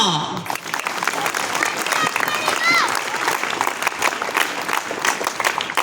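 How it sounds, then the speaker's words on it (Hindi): An audience at a teacher's talk breaks into applause, dense continuous clapping with a few voices mixed in underneath. "तालियां।"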